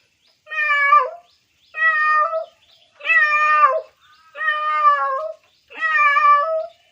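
A voice imitating cats, giving five drawn-out meows in a row with short silent gaps between them, clear, close and unaccompanied.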